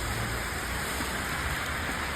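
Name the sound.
heavy rain falling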